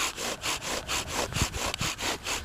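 A bow drill spindle spins against a wooden fireboard under pressure, close rhythmic back-and-forth friction strokes, roughly five per second-and-a-half with a brief clatter midway, fairly quiet and with no speech.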